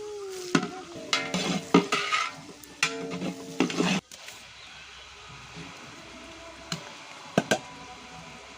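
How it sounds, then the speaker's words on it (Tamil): Onions sauté in a pot for iftar nonbu kanji, a soft steady sizzle under several sharp scraping stirs of a utensil against the pot in the first half, then quieter frying with a couple of isolated clacks. "இந்த வெங்காயத்தை நல்லா வதக்கி விட்டுடுறாங்க"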